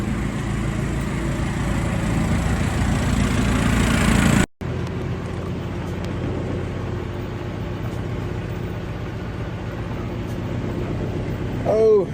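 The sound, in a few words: big truck engine idling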